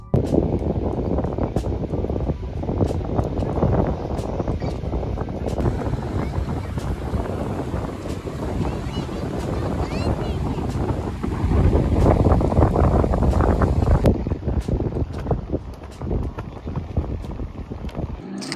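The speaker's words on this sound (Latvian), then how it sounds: "Liepājā kā vienmēr vējains." Strong, steady seaside wind in Liepāja, Latvia, buffeting the microphone throughout, with gusty roaring surges and a rushing, open-air background.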